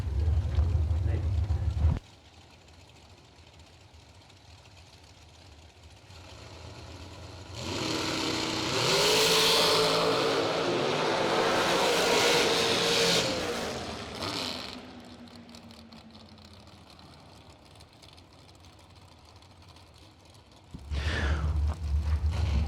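Drag racing cars at the Spring Fling Million event launch down the track, a loud rising engine roar that swells for several seconds then fades as they pull away, between stretches of quieter ambience.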